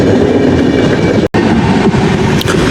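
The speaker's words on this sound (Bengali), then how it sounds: "জঙ্গলের মধ্যে দিয়ে ট্রেনটা চলে গেল।" Rail cars rumble heavily past along a track through the Gorumara jungle, a loud nearby train with a rhythmic clatter of wheels and a brief gap partway through.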